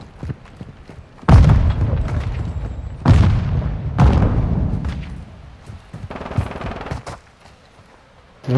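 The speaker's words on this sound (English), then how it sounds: "Hostile mortar strike in the area." Mortar strike explosions in Call of Duty: Modern Warfare II: several heavy booming impacts land a second or two apart, each with a rumbling tail, loud and close, with lighter gunfire between.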